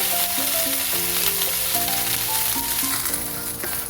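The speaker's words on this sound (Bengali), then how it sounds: "ভেন্ডিটাও ভালো করে ভেজে নিচ্ছি।" Halved okra frying in oil in a pan, a steady loud sizzle and crackle throughout with occasional stirring, no voices.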